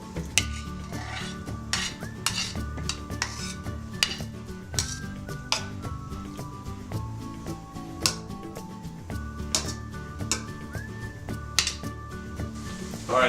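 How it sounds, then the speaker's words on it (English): Shrimp cooking in an oiled pan: metal utensils clink and scrape against the pan at an irregular pace, with a faint sizzle under a steady low background hum. "now I'm going to add the shrimp"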